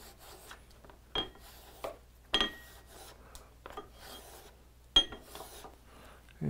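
A blade is stroked across a sharpening stone to remove the burr, with several short, separate rasping scrapes spaced irregularly over a quiet background.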